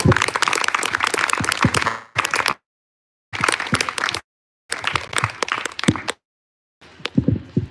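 An audience applauds after a presentation at a showcase event, loud dense clapping in several bursts broken by short silent gaps, with no voices over it.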